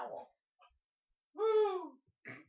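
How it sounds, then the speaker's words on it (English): An owl hoots in a night forest as a sound effect, with several soft calls. One longer, warbling hoot stands out, with brief faint hoots before and after it, spaced apart in quiet surroundings. "You hear the hoot of an owl."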